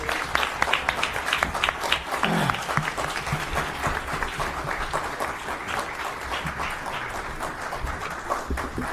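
An audience at a White House panel applauds steadily for about nine seconds, a dense, even patter of many hands clapping, moderately loud and with no voices over it.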